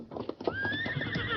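Horses on a Western trail: hooves clip-clopping in a steady beat with a loud neigh rising over them, close and clear with no talking.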